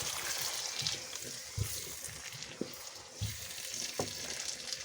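Tomato ketchup is stirred into chicken jalfrezi frying in a pan, giving a soft steady sizzle broken by scattered spoon scrapes and light clinks.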